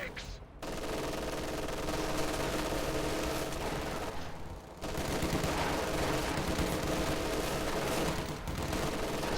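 MG42 machine gun fire in a World War II strategy video game, a dense, sustained rattle of rapid bursts with two brief pauses, heard under faint battle noise and commentary.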